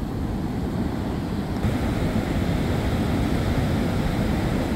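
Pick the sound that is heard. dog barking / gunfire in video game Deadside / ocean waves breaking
ocean waves breaking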